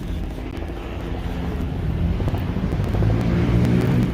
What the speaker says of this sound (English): We got a helicopter flying overhead.